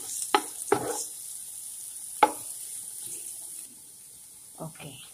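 Garlic added to onions frying in a pan for chicken curry, giving a faint steady sizzling hiss broken by a few sharp utensil clacks against the pan.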